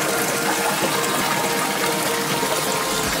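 Water from a pump pours steadily into a clear three-chamber koi pond with a relief-cliff waterfall, a loud, unbroken rushing gush with no talking.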